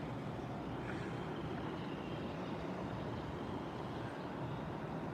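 Two F-18 fighter jets flying over Brooklyn, heard as a distant, steady, broadband roar that holds at an even level throughout with no clear approach or fade.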